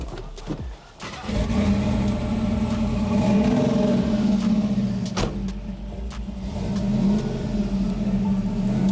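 A custom Chevrolet Chevelle's engine, close and loud, rumbles and revs in a continuous deep drone that swells and eases over several seconds, following a few sharp knocks at the start.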